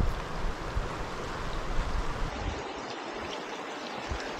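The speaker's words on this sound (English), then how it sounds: "we have to continue on by crossing this creek." A mountain creek near Blue Lake in the high country runs steadily with broadband rushing water, loud and close throughout, with no voices.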